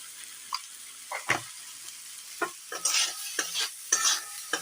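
Spices with turmeric, salt and a little sugar frying in a pan for ghugni, with a close, quiet sizzle and repeated scraping strokes of a spoon stirring, in irregular bursts.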